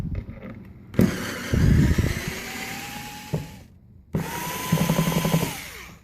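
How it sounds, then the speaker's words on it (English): An electric screwdriver backs screws out of a module enclosure in two loud whirring runs, each with a clicking start and a falling whine, separated by a brief silence. "I'm going to go ahead and do that using the electric screwdriver just to speed up the process"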